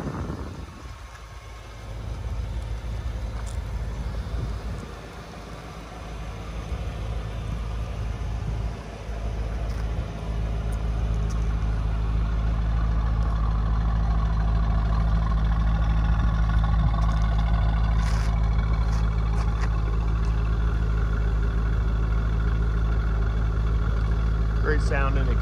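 A 2003 50th Anniversary Chevrolet Corvette with a 6-speed manual idles with a steady low engine and exhaust rumble, continuous and moderately loud throughout, with no talk over it.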